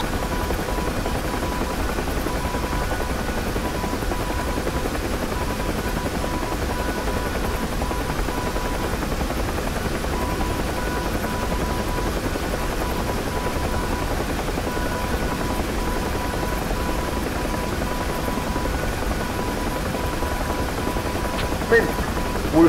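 A UH-1 helicopter flying in the DCS combat flight simulator: a continuous, even rotor and turbine drone that holds steady for the whole stretch with no break.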